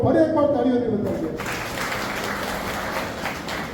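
A voice speaks briefly before an audience at a Gujarati community gathering breaks into sustained applause, a dense even wash of many hands clapping that carries on to the end.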